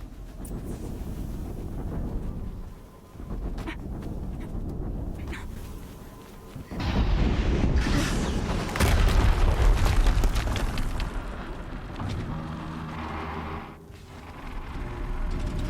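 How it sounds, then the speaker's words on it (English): Explosions rumble through a Horizon Zero Dawn fight, with loud sustained booming bursts and roaring noise that swell and fade across a long stretch of dense game audio. "another explosion"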